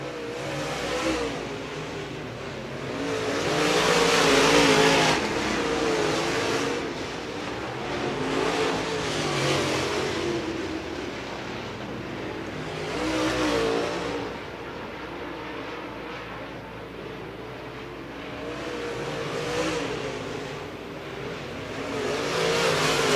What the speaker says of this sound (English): Lap number 6, going to be a 3-second advantage for Kevin Reeve